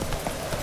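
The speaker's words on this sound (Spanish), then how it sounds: "Vamos, salta, Sardinilla, salta, que tú eres un caballo bueno, hombre." Horse hooves clip-clop in a quick rhythm as the rider gallops on horseback in The Witcher 3, close and clear in a brief burst with someone talking over them.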